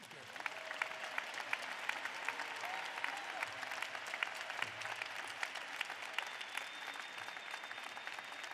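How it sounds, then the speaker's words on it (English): A commencement audience applauds its graduates with steady, even clapping at a moderate distance, dense and sustained from start to finish, with faint voices underneath. "Another moment of applause for our graduates."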